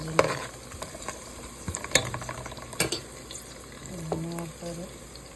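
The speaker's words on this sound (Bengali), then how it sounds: "2-3টা এলাচ, 2-3টা লবঙ্গ দিয়ে ভেজে নেবেন।" Cardamom and cloves frying in oil alongside cinnamon for chicken biryani: a faint, low sizzle punctuated by a few sharp clinks of a utensil against the pan and brief tonal scraping sounds, fairly quiet and close.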